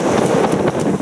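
Strong wind roars steadily across the microphone aboard a sailboat at sea in about 13 knots of breeze on the Baltic, loud, buffeting and continuous, with no talking.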